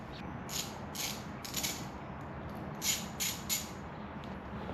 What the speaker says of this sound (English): A 1/4-inch drive to be able to crank on it just a little more.